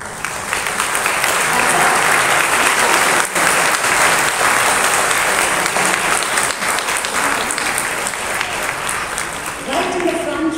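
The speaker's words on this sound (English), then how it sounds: "there was this huge round of applause" Huge applause from an audience after a piano performance with singing, loud, dense clapping that holds steady for about ten seconds, with a voice briefly audible near the end.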